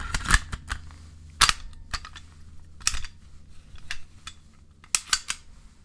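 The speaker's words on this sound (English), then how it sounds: "putting that back in, I mean, you really won't find a gun that goes together that easily," Handgun parts clicking and snapping together during reassembly, a close series of crisp metallic clicks with a few sharper snaps, irregularly spaced over a quiet background hum.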